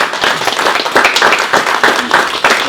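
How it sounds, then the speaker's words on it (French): An audience in a hall at a talk on bio-based buildings applauding two speakers, close, loud, irregular clapping that swells and dips throughout. "si vous voulez bien applaudir nos deux intervenants"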